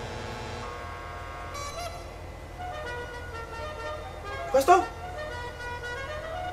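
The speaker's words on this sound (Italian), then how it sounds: "Clacson, sentite?" A car horn in GTA 5 gives a short double honk over steady engine hum, with someone talking over the game sound.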